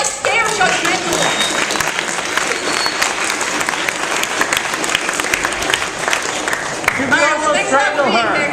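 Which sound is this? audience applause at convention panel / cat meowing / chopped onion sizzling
audience applause at convention panel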